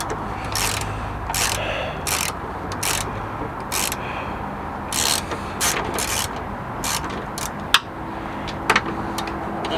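A ratchet undoes a bolt on a car gearbox mount in a driveway, its rapid pawl clicking coming in repeated bursts close by, with a couple of sharp metallic knocks near the end.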